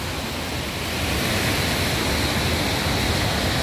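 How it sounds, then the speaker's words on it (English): A waterfall on the Goechala trek between Yuksom and Sachen, heard from atop a bridge, gives a steady, dense roaring wash that stays constant and fills the whole clip, with no voices. "the beautiful, gorgeous waterfall."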